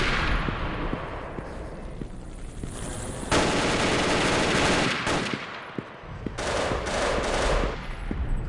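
Machine gun fire in an old 2000s video game, long sustained bursts of rapid automatic shots, loud and close, broken by a short pause before firing picks up again.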